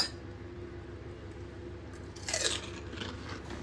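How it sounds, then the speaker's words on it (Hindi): A single crisp crunch sounds close up as a golgappa (pani puri) shell is bitten, a brief crackle rising over quiet room hiss, followed by softer chewing. "गोलगप्पे का जो क्रंच मेरे मुंह में जाने के बाद आया है, उसका साउंड इतना अच्छे से कैप्चर हुआ है"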